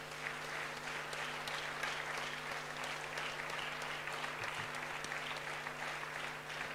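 Sustained audience applause at a televised open-air campaign event in Bletterans, steady and dense throughout with a faint hum underneath.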